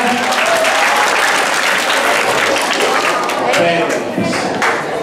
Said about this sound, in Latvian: Skaidrāk, aplausi 8B.